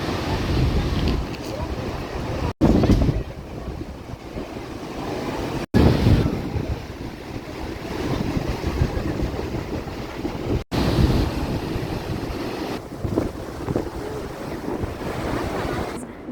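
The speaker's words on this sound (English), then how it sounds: "It is freezing cold and so windy by the falls." Strong wind roars near Yosemite's waterfall along a chilly misty trail, a loud continuous buffeting rush with heavy low rumble from gusts hitting the microphone, broken by a few sudden brief dropouts.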